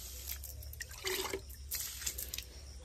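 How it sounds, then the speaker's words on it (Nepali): Water poured into flower pots of blooming plants outdoors trickles and drips unevenly close by, with a couple of louder splashing bursts as it lands on the soil. "म चाहिँ यहाँ पानी हाल्दै"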